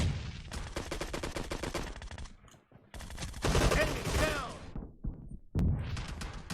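Gunfire in the mobile battle-royale game PUBG Mobile comes as loud rapid bursts of automatic fire with brief pauses and a heavy crashing blast between them.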